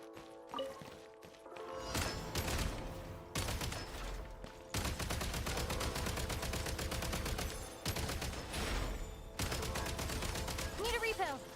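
Video game gunfire at a shooting range, bursts of rapid automatic shots close and loud, broken by short pauses and single impacts, with brief speech mixed in.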